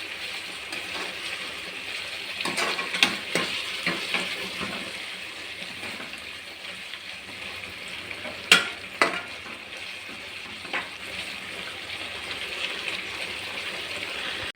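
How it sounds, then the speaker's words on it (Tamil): Cauliflower pepper fry stirred in a pan, a steady hiss of frying under scattered scrapes and a few sharp metallic clicks of the spoon. "நல்லா மிக்ஸ் பண்ணி விடலாம்."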